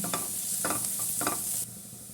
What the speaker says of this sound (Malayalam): പൊടികളുടെയൊക്കെ പച്ചമണം മാറുന്നവരെയും വഴറ്റി കൊടുക്കാം